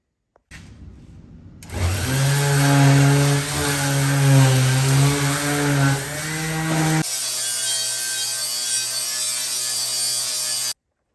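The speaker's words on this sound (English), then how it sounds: "I'm just going to keep on sanding" Steady abrasive sanding on a Jeep Gladiator bed rack with a droning whir, loud and continuous, shifting to a thinner hiss partway through before stopping abruptly.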